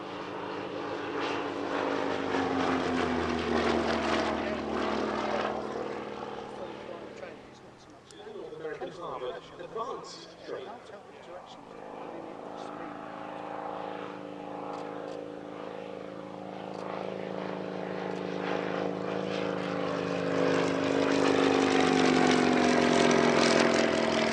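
A propeller aircraft flies at the Shuttleworth Family Airshow 2024, its engine droning loudly and steadily, dipping briefly then swelling again as it passes, while someone talks over it.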